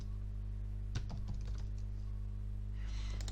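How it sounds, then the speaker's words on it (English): Quick bursts of typing on a computer keyboard while entering text in a PowerPoint slide, a short run of clicky keystrokes close up over a constant electrical hum, then quiet. "click into the text box that is provided, and then you can type your text into it"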